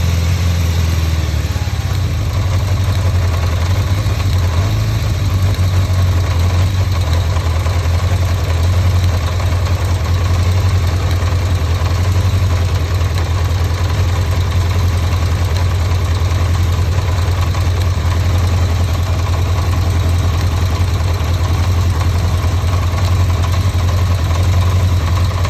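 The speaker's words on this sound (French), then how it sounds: "On va redescendre le ralenti." Steady motorcycle engine idling after the idle speed is lowered, a constant low rumble with an even, continuous tone and no talk throughout.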